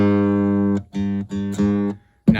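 A repaired Martin DRS2 acoustic-electric guitar, plugged in with only one string fitted, plays a few plucked notes. There is one long sustained tone, then two shorter repeats and a brief clipped sound at the end, each clear and close.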